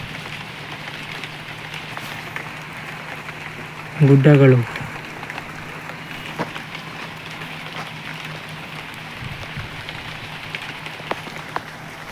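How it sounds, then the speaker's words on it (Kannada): Steady rain falls over open hill pasture where cattle stand, a continuous even patter throughout, with someone speaking briefly and a short louder knock near the start. "ಅಲ್ಲಿಂದ ಈ ಕಡೆ ಬರ್ತಾ ಇರೋದು ಮಳೆ"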